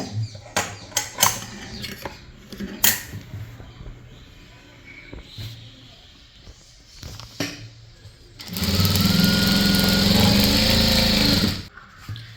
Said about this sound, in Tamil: ஸ்டார்ட் பண்ணும்போது நல்லா ஓட்டிக்கிட்டு தையல் போட்டுக்கோங்க